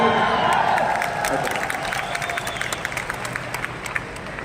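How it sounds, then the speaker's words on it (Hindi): Audience at a company anniversary event gives a round of clapping, a dense steady patter of many hands fading slightly toward the end, with crowd murmur underneath. "एक बार आपके लिए भी ताली।"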